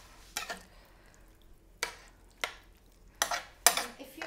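A spoon scrapes and clinks against a pan while shepherd's pie filling is stirred, in about six separate short strokes over a faint sizzle.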